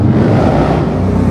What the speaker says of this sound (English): You hear some super loud exhaust?